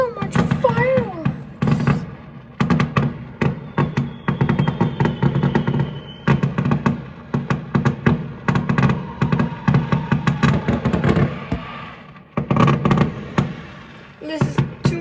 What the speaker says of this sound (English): So much fireworks.